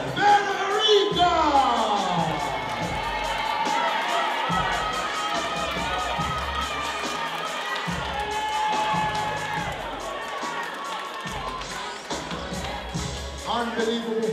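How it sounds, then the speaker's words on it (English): Crowd cheering and shouting at a women's 57 kg title fight as the new champion is announced, a loud, sustained roar with pounding music beneath and a few brief peaks. "please continue a round of applause"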